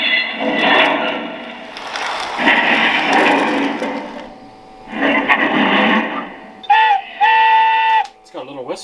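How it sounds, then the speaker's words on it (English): Whistle effect from a Menard's Santa Fe diesel model train, a couple of short electronic horn toots near the end, following a stretch of rumbling engine sound with people talking over it. "It's got a little whistle."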